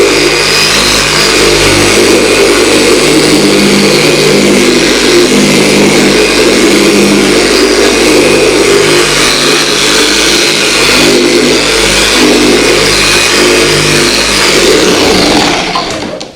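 Car polisher working Griot's Garage Complete Compound across a vehicle's paint, a steady loud motor whir holding constant for about sixteen seconds before cutting off at the end.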